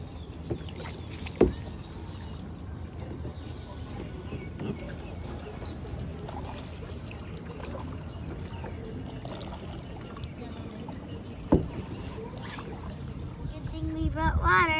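Kayak paddling on a lake: soft water swishes and drips with a couple of sharper paddle knocks, close and quiet under faint ambient noise, with slight rustling near the end.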